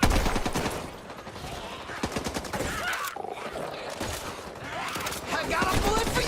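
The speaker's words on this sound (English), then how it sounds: "in this next scene, you can see them shooting the zombies" Gunfire cuts down zombies in a Back 4 Blood video game scene: dense, loud bursts of rapid shots with growling infected and shouting survivors mixed throughout.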